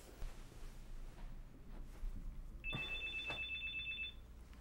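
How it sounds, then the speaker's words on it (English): A telephone rings indoors with a single two-tone electronic burst lasting about a second and a half, clear above a low steady background hum, with no talking. "Phone's ringing."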